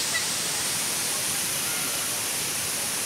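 Tinuy-an Falls in Bislig City sends up a loud, constant roar of falling water, a dense hiss that stays even from start to finish.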